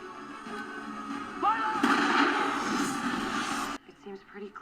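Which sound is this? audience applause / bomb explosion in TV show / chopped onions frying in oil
bomb explosion in TV show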